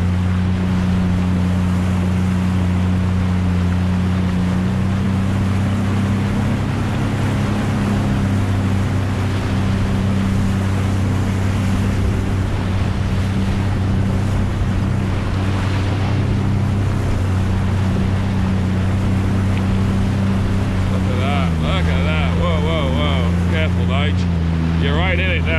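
A Sea-Doo personal watercraft on a lake runs with its engine throttled hard, giving a loud, steady, close droning roar mixed with wind buffeting and water spray, and the pitch shifts near the end.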